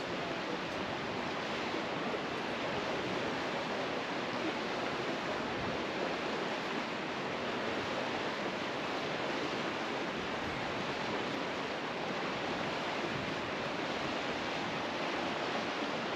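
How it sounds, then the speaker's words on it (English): A waterfall near a glacier in Alaska roars loudly and continuously, a thick broadband rush of falling water with no voices. "There's a nice little waterfall."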